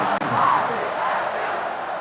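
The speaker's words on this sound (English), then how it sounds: "this crowd is feeling themselves after that last drive" A college football stadium crowd at Boise State roars after a touchdown drive against Fresno State, a thick wash of loud cheering that stays dense and near throughout, with a brief sharp dip early on.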